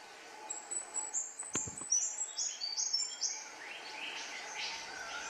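A female Albert's lyrebird calls in a rainforest canopy, giving a quick run of repeated high, clear whistled notes, moderately distant, then fading into soft forest ambience.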